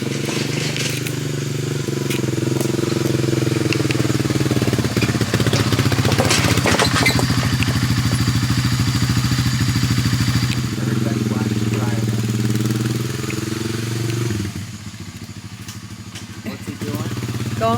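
An ATV engine running after a carburetor repair, a loud, steady close-up drone with rattling harmonics that shift in pitch partway through and ease down near the end, with voices heard over it at times.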